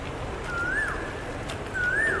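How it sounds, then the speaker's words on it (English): A bird sings outdoors, two clear rising-and-falling whistled phrases about a second apart over faint background hiss, distant and fairly soft. "I don't know where is the bird, but I love this sounds, you know, the way bird is singing."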